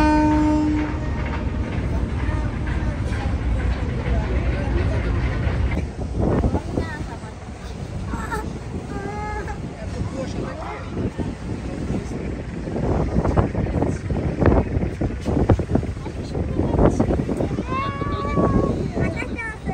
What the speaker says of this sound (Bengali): 9টার মধ্যে লঞ্চটা ছেড়ে দিল একদম পারফেক্ট টাইমে।